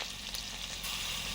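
Black cumin seeds and slit green chillies sizzle steadily in hot oil, a dense close crackling hiss with no pauses over a brief moment, no voices.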